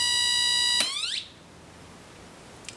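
A homemade electronic alarm circuit from a hobby electronics experiment holds a steady shrill tone, then on switch-off the pitch sweeps and warbles down within half a second as the capacitor drains, leaving quiet background hiss.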